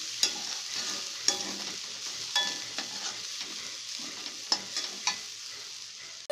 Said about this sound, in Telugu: చివరిగా కొబ్బరి తురుమును వేసుకొని ఒకసారి బాగా కలపాలి